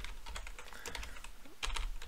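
Quick, light keystrokes tap across a computer keyboard in an irregular burst, close by and fairly quiet, with a slightly louder cluster of clicks near the end.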